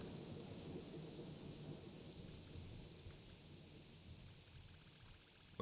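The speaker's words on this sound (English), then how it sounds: "so it's raining" Steady rain and low rolling thunder in the video game Moonlit, a continuous quiet wash of rainfall with deep rumbling underneath throughout, no voices.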